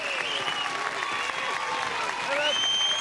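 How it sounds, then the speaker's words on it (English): Sustained applause from a television game show studio audience, steady and fairly loud throughout, with whistles and excited voices rising over the clapping near the end. "Give a nice round of applause."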